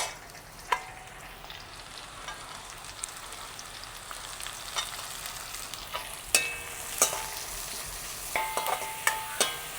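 Onions and leeks sauté in a pan for chicken aval kothu, giving a steady soft sizzle with occasional sharp clicks of a utensil stirring, fairly quiet and without talk.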